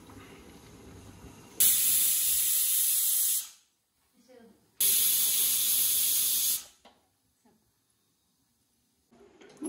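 A pressure cooker of biryani vents steam in two loud, sharp hissing bursts of about two seconds each, with near silence between and after them.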